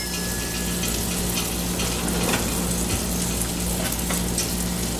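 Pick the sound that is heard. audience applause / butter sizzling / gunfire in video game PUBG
butter sizzling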